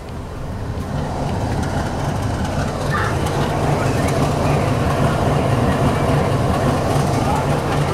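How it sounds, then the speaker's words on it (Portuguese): Steady low rumble of trains crossing in Rolândia, Brazil, with a constant droning hum, continuous and fairly loud throughout, with a faint brief squeal partway through. "Cruzamento de trens em Rolândia."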